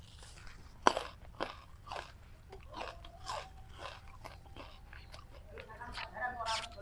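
Someone bites into a tender, juicy stalk of Pakchong grass grown as goat fodder, giving a series of close, crisp crunches and chewing snaps at irregular intervals, with faint breathy sounds between them.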